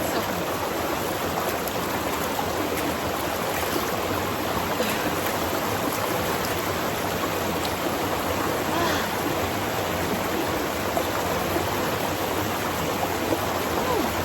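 Steady rushing of flowing stream water, continuous and even throughout, fairly close with no pauses.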